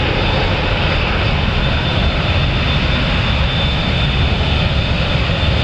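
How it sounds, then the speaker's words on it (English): An Emirates Airbus A380 Super Jumbo, ten years old, bound for Dubai at Manchester Airport, its jet engines a loud, steady, broadband roar that holds for the whole span without talk. "we've got an Airbus A380 Super Jumbo, Emirates going to Dubai"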